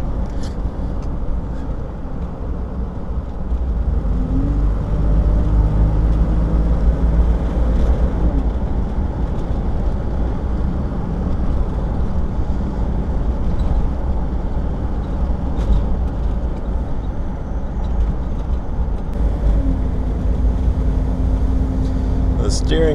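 1988 Toyota Land Cruiser FJ62 on the move, a steady low engine drone and road rumble heard from inside the cab, with a couple of rising shifts in tone, someone talking over it.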